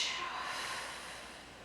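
A single soft airy exhale during a pilates flow, close and fading over about a second and a half, with no talk over it.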